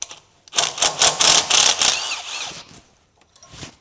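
A hand tool rapidly ratchets off a 10mm bolt freeing an ABS wire bracket during a 5th generation 4Runner front wheel bearing job, loud close bursts of clicking for about two seconds, then a few faint taps.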